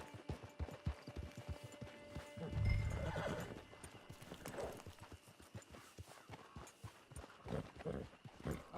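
In Red Dead Online, a horse's hooves clip-clop in a quick galloping rhythm, with a loud neigh early on. The hoofbeats keep going and a little faint speech is heard.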